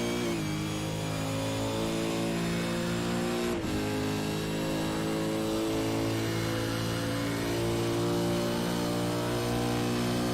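A supercar in a racing video game accelerates flat out down the back straight at Montreal, its engine note loud and continuous, climbing steadily through the revs with one brief shift dip partway through.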